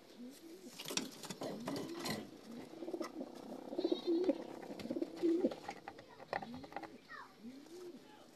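Racing pigeons arriving at a loft during a derby and cooing softly in repeated low, throaty phrases, with flutters and a scatter of nearby noise beneath.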